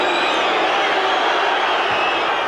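A football crowd at an Arsenal match in 1980 roaring and booing at a penalty decision, a loud continuous wash of massed voices filling the stadium.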